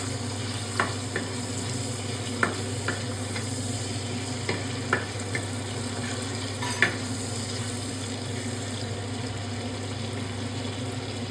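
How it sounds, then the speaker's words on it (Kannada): Green chillies fry in a pan for ridge gourd palya, a steady sizzle running throughout while a utensil stirs them, with occasional sharp scrapes and clicks against the pan. "ಮೆಣಸಿನ್ಕಾಯಿನ ಹಾಕಿ ಅದನ್ನು ಮತ್ತೆ ಫ್ರೈ ಮಾಡಬೇಕಾಗುತ್ತೆ"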